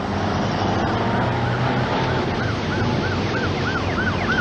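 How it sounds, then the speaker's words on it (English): An ambulance siren wails over heavy traffic rumble, its rising-falling tone growing louder and more insistent as it approaches. "I heard a siren"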